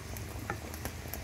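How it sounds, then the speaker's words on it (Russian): Steady crackling sizzle of carrots frying in oil in a pan, continuous and close, with a few brief clinks of stirring. "Подготовленную морковь необходимо обжарить на масле на сковороде."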